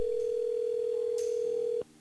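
A radio station switchboard telephone gives one steady, unbroken electronic tone for nearly two seconds before it cuts off abruptly, leaving a faint hiss.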